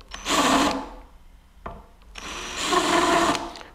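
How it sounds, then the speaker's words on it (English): A power drill fitted with a chamfer bit cleans holes in a guitar body during final assembly, spinning up in two close, loud whirring bursts separated by a quieter pause with a light click. "I don't want to grab the finish with the drill bit while I'm cleaning the holes and tear it off the face"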